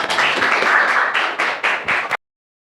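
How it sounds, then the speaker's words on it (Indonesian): A short burst of clapping from a small group in a classroom, dense at first and then breaking into a few scattered pulses before stopping abruptly. "Tepuk tangan ya."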